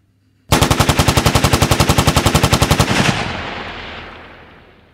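Cartoon machine-gun fire from an animated Spider-Man series erupts suddenly as a loud, rapid, steady burst of about two and a half seconds, then cuts off into a long fading echo.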